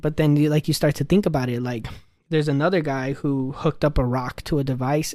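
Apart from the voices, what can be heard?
No everyday noises stand out.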